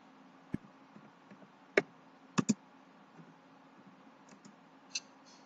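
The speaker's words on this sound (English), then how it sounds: "click on save" Sharp, isolated mouse clicks, a few single and one quick double, sound close and dry against near silence while saving a file in MS Paint.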